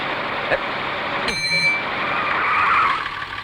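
A passenger vehicle carrying a family sets off, its engine a steady rumbling drone with a brief sharp squeal partway through and faint voices in the background.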